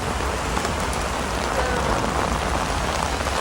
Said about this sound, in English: I think it's called raining.